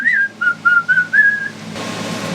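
A person whistles a short tune of several clear, bright notes while working on a sailboat's steering gearbox, close and loud, followed by a burst of broadband noise.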